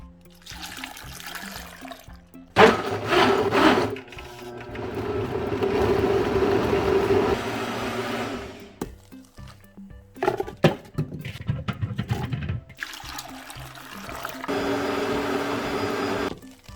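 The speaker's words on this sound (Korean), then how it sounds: "물을 여기다 부어줄게요" Water is poured into a pot of apples for apple jam, gushing and splashing close by in several separate bursts with short quiet gaps between them.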